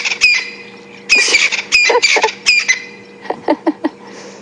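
Francolin calling during a morning safari drive at Djuma Game Reserve: a string of harsh, rhythmic cackling bursts, fairly close and loud, fading into shorter, softer notes toward the end.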